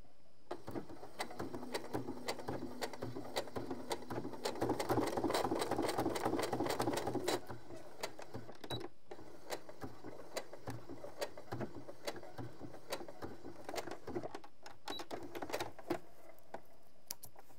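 A sewing machine stitches piping onto fabric for a Teddy bomber jacket, running in a steady whirring stretch that swells louder midway, with short pauses and brief restarts, close and without talk.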